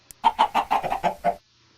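Minecraft chickens, the nether quartz kind, cluck in a quick run of about seven short, fairly loud calls close by, then fall silent, with no talking over them.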